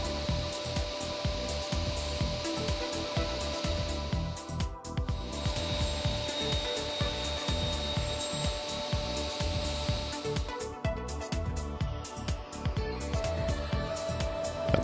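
A Felder Hammer C3 31 combination woodworking machine cross-cutting wooden pieces to length, with a steady machine whine broken by repeated rapid rattling cuts and a brief pause partway through.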